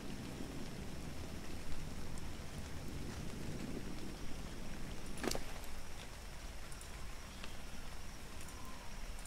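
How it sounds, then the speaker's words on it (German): Rain falling in the video game Ark, a steady broadband hiss with a dense low rumble that continues evenly throughout, with one sharp crackling burst partway through. "Ich glaube, es regnet."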